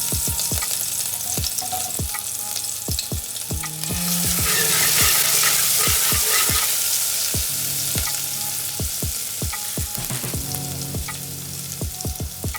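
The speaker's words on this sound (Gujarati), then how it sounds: "તેલ ગરમ થઈ ગયું છે. તો વાટેલા લસણ અને મરચાંની પેસ્ટ નાખીશું." Crushed garlic and chilli paste sizzles loudly in hot oil for a samosa filling, a dense continuous frying hiss punctuated by frequent sharp clicks of a spoon stirring against the pan.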